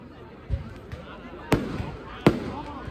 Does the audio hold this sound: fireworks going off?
yes